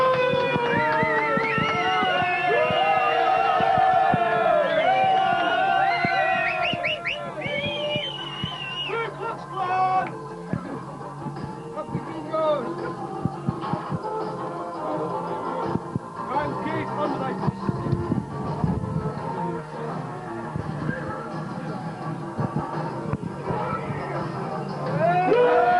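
Loud, continuous crowd roar with shouting and cheering at an egg eating championship aboard HMS Ambuscade in 1992, a dense wall of voices and whoops swelling and surging throughout without letup.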